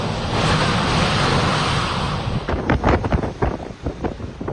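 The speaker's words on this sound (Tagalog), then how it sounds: "ramdam na ramdam ang tila nagangalit na ulan at hangin" Strong typhoon wind and rain roar as a dense, steady wash of noise heard from indoors, with gusty surges and flutter building in the second half.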